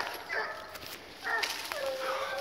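A hunting dog at a coon hunt bays and yips in short bursts at a treed raccoon, heard at moderate distance in open woods.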